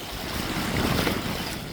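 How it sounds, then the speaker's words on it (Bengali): A coal carrier ship serving a thermal power plant passes on the Bishkhali and Payra river estuary near the sea, heard as a steady low rumble mixed with wind and water wash, with no voices. "একের পর এক আসা যাওয়া করছে তাপ বিদ্যুৎ কেন্দ্রের জন্য কয়লাবাহী জাহাজ"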